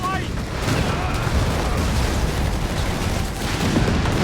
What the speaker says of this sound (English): which gives vision for the AT guns to fire, which they do